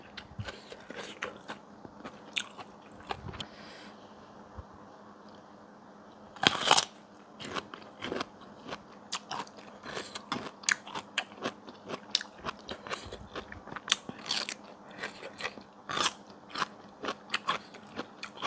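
Crunchy boiled bitter bamboo shoots eaten with rice, heard as close, repeated crisp bites and chewing crunches that come in irregular clusters with brief quiet gaps.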